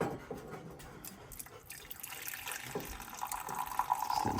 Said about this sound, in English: We'll do first pour of the morning.